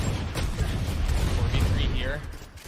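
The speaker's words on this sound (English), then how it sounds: "As you hear just gunfire erupt across the site." Dense, rapid bursts of Valorant gunfire crackle continuously during a professional esports match, mixed with a busy rumble and voices in the background.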